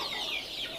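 KUB village chickens cluck on a semi-intensive farm, a brief stretch of overlapping hen calls that sound moderately close.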